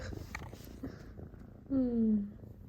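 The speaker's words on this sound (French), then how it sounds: "Petit chaton." A kitten's drawn-out, rising-and-falling vocal sound rings out clearly after a stretch of quiet rustling and a soft voice, lasting about half a second.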